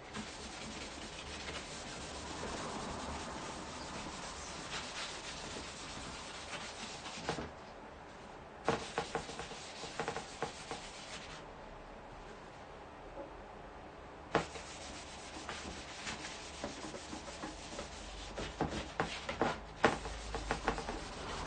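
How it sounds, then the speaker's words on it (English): Tissue scrubbing thin oil paint onto a painting panel during an alla prima rose painting, a steady close dry rubbing and scuffing that runs almost continuously, with brief pauses and scattered small knocks. "So I'm going to keep that fairly thin and just scrub that in with a tissue."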